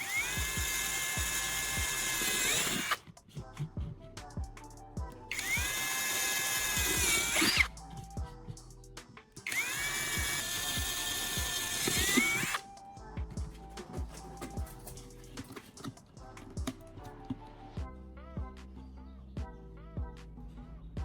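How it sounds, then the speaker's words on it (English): Power drill boring four holes into a plastic cap, three loud whining bursts of a few seconds each separated by quiet gaps, followed by softer tapping and handling sounds. "with my drill, I'm making 4 holes where I marked the cap"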